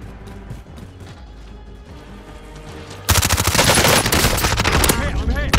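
Gunfire in a battle royale shooter game that sounds like a distant rifle shot and scattered noise at first, then a sudden loud, dense burst of rapid shots and impacts for the last few seconds.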